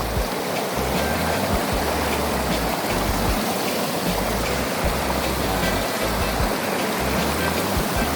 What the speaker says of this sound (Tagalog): Malaking ilog ito guys